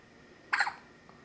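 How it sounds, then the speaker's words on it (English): A baby's single short hiccup, a soft, close, sudden burst over a quiet background. "But they're pretty cute hiccups."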